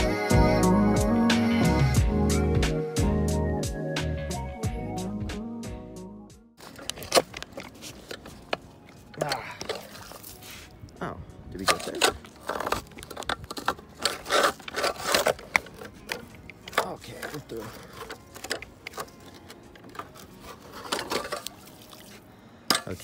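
An 8-inch auger blade bores a hole through lake ice: a steady, harmonic motor drone for the first several seconds, then it cuts off, leaving scattered knocks, scraping and wet sloshing of slush and water.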